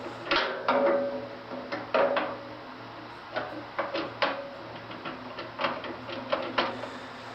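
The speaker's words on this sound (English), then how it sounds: "Then I'm going to put the crank in." A crank clicks and rattles into place on a Woodmaster 712 planer, a string of sharp metallic knocks and scrapes at an irregular rhythm, close and moderately loud.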